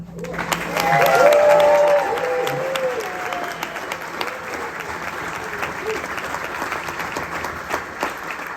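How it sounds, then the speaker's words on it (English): Crowd applause and cheering at a war memorial gathering in Michigan, swelling to a loud peak early on and then carrying on as steady clapping. "I just got one request for the round of applause."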